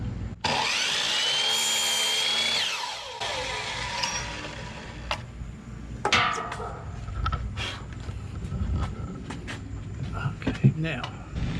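A wooden board is sawn to trim about an inch off while building a custom rod rack for a Toyota 4Runner, a steady rasping stroke for the first few seconds followed by clunks and knocks of handling, with a voice talking.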